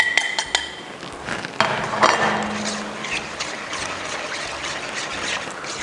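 A spoon stirs chocolate into a warm panna cotta mixture in a metal pot, giving close, steady scraping and clinking against the pot sides with a few sharper knocks, and no talking over it.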